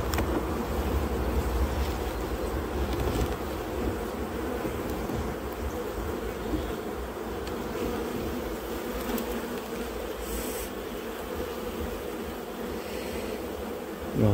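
Dense, steady hum of a very active honeybee colony at a breeding and selection apiary in spring, a continuous close buzz of many bees with faint wind noise.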